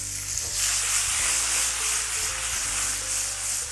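Tomatoes go into a hot pan of ginger cooked over high heat, giving a loud, steady broadband sizzle that runs throughout with slight swells, as if being stirred, with no voices.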